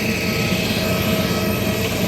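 A large IndiGo passenger jet airliner at the airport gives off a loud, continuous engine roar and whine that holds steady throughout.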